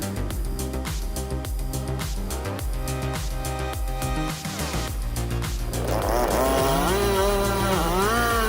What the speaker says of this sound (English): This chainsaw comes with 2 cutting heads, specifically built for tackling large logs.